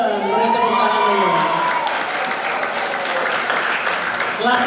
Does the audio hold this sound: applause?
yes